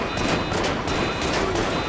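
Gunfire in a city shootout in modded GTA 5, a loud dense fusillade of rapid overlapping shots with bursts that barely pause across the whole stretch.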